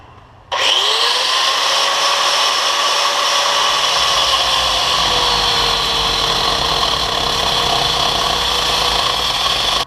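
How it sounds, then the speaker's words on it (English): A cutoff wheel bites into a bowfishing reel seat clamped in a vise, starting abruptly into a loud, continuous high-pitched grinding whine that holds steady for several seconds, close up and alone. "I'll go ahead and use a cutoff wheel. It's just a little bit more controlled."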